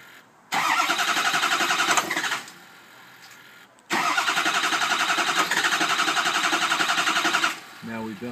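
A 2006 Ford 6.0L diesel cranks in two long, loud bursts of rapid starter chatter separated by a short pause, close by, the engine catching briefly near the end.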